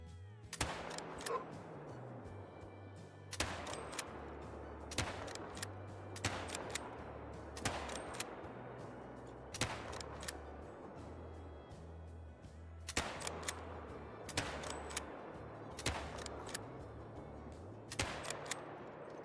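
Single rifle shots from the new weapons pack in theHunter: Call of the Wild, a hunting video game, fire at steady intervals, about eight sharp cracks over a low droning musical bed.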